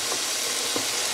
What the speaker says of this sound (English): Have to let this saute for about 7 minutes